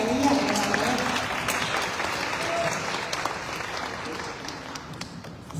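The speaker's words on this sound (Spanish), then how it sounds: "Fuerte el aplauso para ella" Steady applause from an audience at the presentation of candidates for ambassador of the 2024 Feria Nacional Potosina, dense clapping throughout at moderate level, gradually easing slightly.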